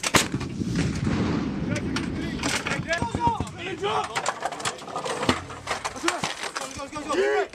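An M777A2 howitzer fires during a crew drill, sharp blasts and rattling impacts mixed with loud, shouting crew voices throughout.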